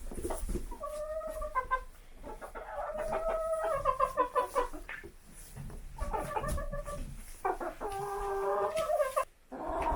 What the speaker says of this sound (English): We're going to feed the chickens their treat in here today